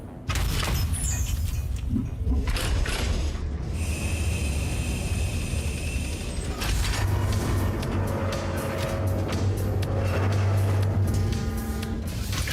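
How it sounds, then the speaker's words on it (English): Copper freight train rolling into a factory station in a factory-building video game, with a steady loud rumble, creaking metal and mechanical clanks, a sustained low drone building in the second half, alone without talk. "And the copper train's back again."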